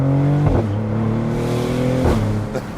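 A Maserati GranCabrio Trofeo accelerates hard with a loud, close engine note that climbs in pitch, drops sharply at an upshift, then climbs again before another shift, with no one speaking.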